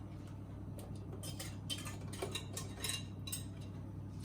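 A whisk taps and scrapes quickly against a pan as pastry cream mixture is beaten into milk on the hob, a light, rhythmic metallic clicking over a low steady hum.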